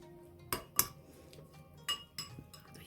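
A spoon clinks and scrapes against a bowl while garlic butter is stirred with thyme, oregano and coriander: a few sharp, quiet metallic taps spaced irregularly in a calm kitchen.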